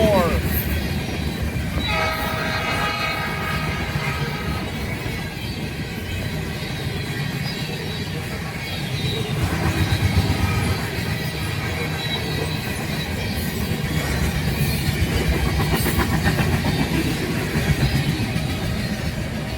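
A Canadian National freight train, L521, passes westbound through Scott's, Michigan, its horn blasting early and then a long rhythmic run of wheel clatter and rolling rumble close by, swelling and easing over nearly twenty seconds, with a voice faintly underneath.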